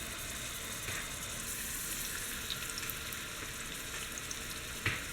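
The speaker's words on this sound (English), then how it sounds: "Alright, we're getting the steak in." A steak sizzling in a pan over medium-high heat, a faint, steady frying hiss with a few small pops and clicks.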